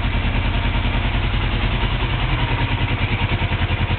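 A 1983 Suzuki GS450L motorcycle engine idles steadily and close up, a loud, even, throbbing rumble with light mechanical clatter and no voices.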